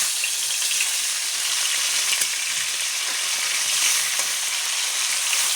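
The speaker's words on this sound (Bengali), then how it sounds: "ইলিশ মাছ সবসময় হালকাই ভাজতে হয়। এখন ভাজা করে নেব মাছটা।" Hilsa fish sizzles in hot oil, a steady hiss with faint crackles that runs continuously at close range.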